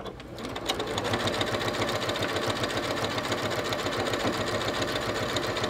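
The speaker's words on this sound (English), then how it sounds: "Now I'm just going to rotate that needle over and sew on this side." A sewing machine stitches the side of a sling bag in a loud, steady, rapid rhythmic chatter that starts after a brief pause and runs on without talk.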